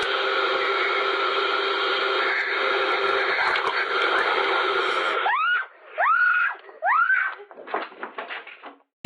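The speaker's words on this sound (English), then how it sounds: "causing Louise to scream and run out of the room" A woman screams and cries out several times in short, rising bursts after a steady, loud hiss of noise from a tape recorder, the shrieks sharp and close amid rustling.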